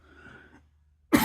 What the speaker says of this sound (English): I don't know why I'm coughing so much lately.